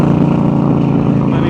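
A Harley-Davidson Road Glide motorcycle engine runs loud and close with a steady, unbroken rumble while riding, and no pauses through the stretch.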